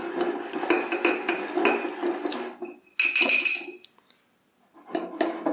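A spoon clinks and scrapes against a bowl while stirring food in several close bursts, with a short quiet pause before a final round of mixing.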